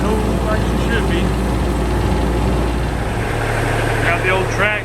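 A Kioti DK35 tractor engine runs steadily with a low, even rumble that holds throughout, its radiator hose recently replaced. Other noises and voice-like sounds sit around it.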